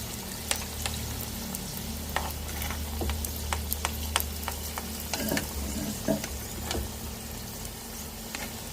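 Egg puffs frying in oil, a continuous soft sizzle under a low steady hum, with sharp intermittent clicks and crackles of spatter, moderately quiet and close, no voices.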